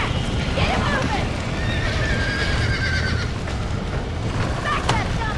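Horse whinnies and hoofbeats in the Red Dead Redemption video game, heard under a steady wash of game noise with a shouting voice over it; a couple of high neighs rise partway through.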